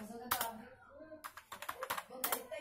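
Quick bursts of computer keyboard typing come in short clusters of keystrokes, close and crisp, separated by brief pauses.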